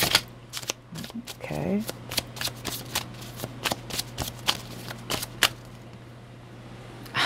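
Tarot cards shuffle in quick, crisp riffles and snaps up close, rapid ticking bursts with short pauses, while a voice speaks briefly near the start.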